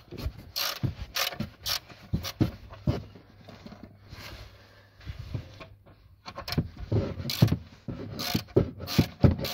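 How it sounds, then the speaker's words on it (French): Socket wrench turning a bolt on the wing of a BMW E39, with a soil-clogged socket giving a series of close ratcheting clicks and scraping metal rubs in irregular bursts, pausing briefly midway. "La douille a du mal à rentrer dedans, tout simplement parce que c'est plein de terre."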